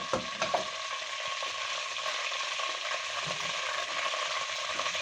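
Ghee and oil heat in a karahi pan for chicken karahi, giving a steady, close, continuous sizzle with a few faint clicks near the start and no talking.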